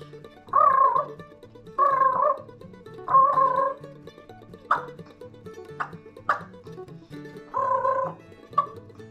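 A man imitates a wild turkey's yelping call with his natural voice, giving rhythmic series of short, throaty notes in bursts near the mic, with a few brief sharper yelps in between and no other talk.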